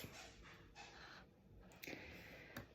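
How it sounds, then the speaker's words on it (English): A pet puppy whimpers and pants softly indoors, a few faint breathy whines coming in short bursts with quiet rustling between them. "Dad's home, so pup is whining."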